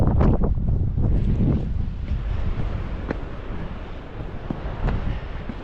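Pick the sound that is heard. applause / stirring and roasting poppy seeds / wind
wind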